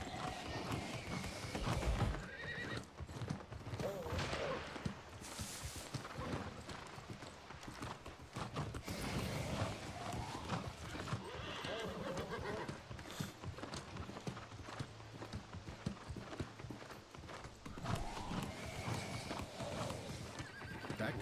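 Horse galloping with steady clip-clop hoofbeats and several loud neighs in the online game New World, set in a dense, busy game soundscape that continues throughout.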